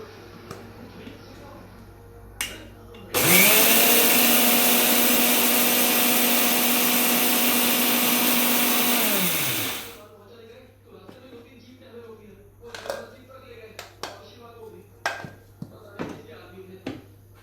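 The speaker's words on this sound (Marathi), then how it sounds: "आता आपण आधी मिक्सरला हे दळून घेते" A mixer grinder grinding cumin starts up loud and whirs steadily for about seven seconds with a high motor whine, then winds down, followed by scattered light kitchen clatter.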